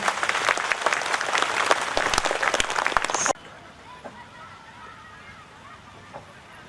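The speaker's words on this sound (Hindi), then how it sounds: "इन सबके लिए जोरदार तालियां बजा दीजिए" Loud audience applause at a stress-relief camp gathering in Darbhanga, Bihar, lasting about three seconds and stopping abruptly, followed by quiet room noise with faint scattered sounds.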